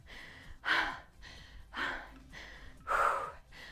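Heavy breathing after a set in a leg workout: three loud, rasping gasping breaths at a steady rhythm, each followed by softer exhales, close to the microphone with no talk.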